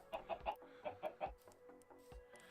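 Chickens in the Minecraft video game cluck in two quick rhythmic bursts of three clucks each, fairly close and clear, with a steady tone and background noise underneath.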